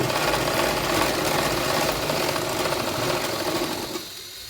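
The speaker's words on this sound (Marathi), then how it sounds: "या पद्धतीने आता सरळ शिलाई मारून घ्यायची" A sewing machine stitches straight seams on a blouse with a steady, close, rattling drone that runs for about four seconds before stopping abruptly.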